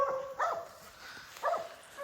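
Hunting dogs baying at a bear treed in the forks of a tree in the woods, two distinct distant barks about a second apart against quiet outdoor background.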